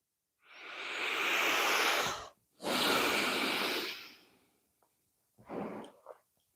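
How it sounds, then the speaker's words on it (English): Slow, deliberate breathing as a conscious practice: a long loud inhale, a second drawn-out breath, then a short quieter breath after a pause, close and alone. "Yeah, just breathing. Breath is life"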